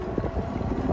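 Strong wind buffets the microphone while riding a TST R002 ebike, a constant low rumbling roar with gusty swells and no voices.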